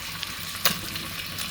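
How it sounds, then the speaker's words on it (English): Bacon fries in a pan, a steady close hiss of sizzling fat with a sharper crackle or pop in the middle, no talk over it. "What bacon sure smells and sounds good."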